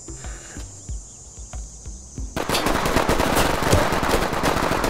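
Gunfire in the video game Ready or Not: a few sparse shots, then a sudden dense, loud automatic burst that continues without pause to the end.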